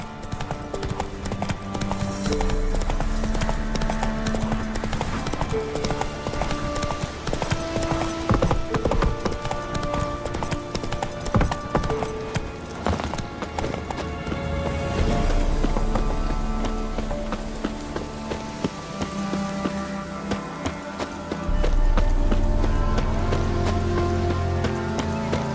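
Horse hooves galloping in The Witcher 3 video game, a continuous rhythmic clip-clop close up, shifting pace partway through, with game music and ambience underneath.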